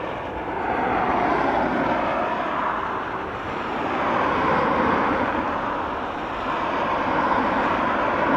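An Aer Lingus airliner taxiing at Dublin Airport gives a broad, steady jet engine roar that swells and eases slightly, heard from a middle distance with some wind noise and no voices.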